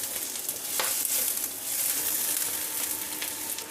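Minced garlic and onion sauté in a hot pan, a steady bright sizzle with scraping stir strokes and a few sharper spatula clinks, close and alone, with no talking.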